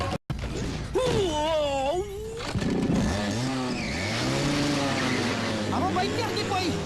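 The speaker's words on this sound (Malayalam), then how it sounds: "നമ്മ ജീപ്പ് കറക്കി." In a Malayalam film scene, a jeep revs and turns with tires squealing and skidding, loud and close, with wavering engine tones, mixed with shouting voices and music.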